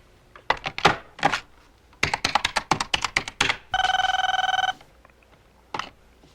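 A telephone in a 1980s home rings in one sustained electronic trill lasting about a second, clear and close, after a burst of sharp clattering knocks and taps.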